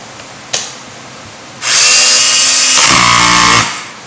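After a single sharp click, a Makita HR140D cordless rotary hammer drill spins up and runs loudly for about two seconds. Its pitch shifts partway through before it winds down, with no voices.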